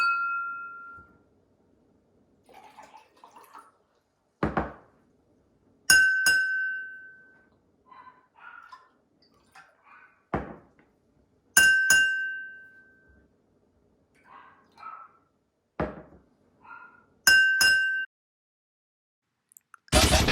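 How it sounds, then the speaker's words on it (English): A spoon taps the sides of glasses of water several times, each strike ringing out in a clear bell-like tone at different pitches, separated by quiet pauses and faint handling noises. "sound was produced by tapping the side of the glass with the spoon"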